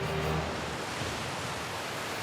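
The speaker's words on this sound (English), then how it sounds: "There's the waterfall. That's really cool." Waterfall in the Pokemon Violet game, a continuous broadband rushing roar of falling water, steady and fairly loud throughout with no voices.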